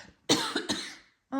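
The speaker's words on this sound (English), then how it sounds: "Now I'm going to sneeze." A person sneezes indoors, a sharp burst followed by a second explosive release, then a short voiced exhale at the end, close to the microphone.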